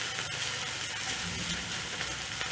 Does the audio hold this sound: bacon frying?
yes